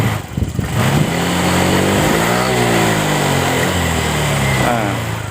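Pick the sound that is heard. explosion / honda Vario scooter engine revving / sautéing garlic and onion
honda Vario scooter engine revving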